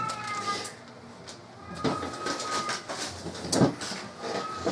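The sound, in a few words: pet cat meowing in the kitchen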